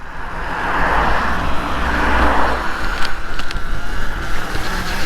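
Surron Ultra Bee electric dirt bike climbing a steep trail hill, a steady motor whine with rushing wind and ground noise, close and continuous, brief sharp knocks toward the end.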